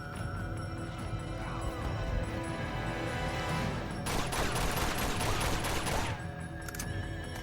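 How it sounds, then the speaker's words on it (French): Gunfire in the video game Uncharted 2 as a magazine is emptied: a rapid burst of shots rattles for about two seconds over a dense game soundscape. "j'ai voulu tenter un truc en vidant mon chargeur tout simplement"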